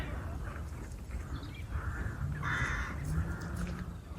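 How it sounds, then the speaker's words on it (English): Crows caw over a quiet marsh at Rofford, several harsh calls with other birds faintly in the background under soft ambient noise. "Hearing all the different birds."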